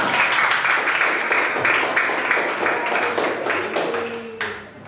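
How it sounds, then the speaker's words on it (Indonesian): Pupils clap in a classroom for a classmate, a dense patter of small hands lasting several seconds before tapering off, with a brief voice near the end. "Tepuk tangan untuk Cahyo"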